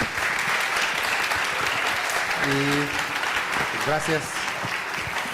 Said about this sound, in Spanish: vamos a agradecerle a los hermanos con un aplauso